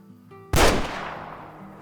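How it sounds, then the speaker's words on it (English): A single sharp, loud hunting rifle shot fired at an eland in a hunting video game, a sudden crack after a quiet moment, then a long rolling echo decaying into the distance. "Let's go ahead and see if we can get a shot into him."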